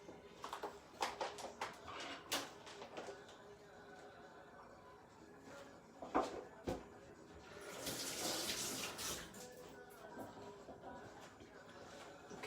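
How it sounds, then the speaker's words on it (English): Hands are washed under a running kitchen tap, with faint splashing and intermittent clinks and knocks, the water swelling louder for a few seconds midway; the sound is quiet overall and there is some speech. "let me put this to one side, wash my hands"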